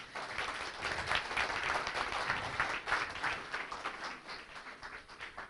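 Steady applause from a conference audience at a valedictory function, sustained and fairly even, slowly tapering off toward the end.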